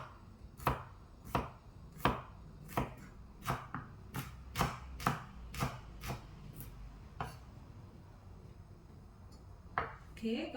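Knife chopping ingredients finely on a board for frying, about a dozen sharp, evenly spaced strikes that stop partway through, followed by faint scraping near the end, close and fairly quiet.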